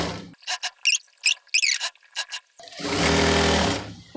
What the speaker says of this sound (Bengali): 2 সুতা পরিমাণ রেখে চাপ দিয়ে সেলাই দিয়ে নেব।